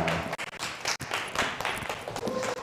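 Scattered clapping from a congregation at a church youth service, uneven sharp claps at close-to-moderate distance with brief gaps and low background murmur.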